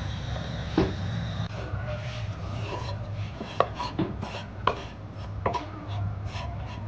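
Chana dal being roasted and stirred in a pan for halwa, a soft continuous scraping and rustle with a few sharper spoon knocks against the pan, heard close over a low steady hum.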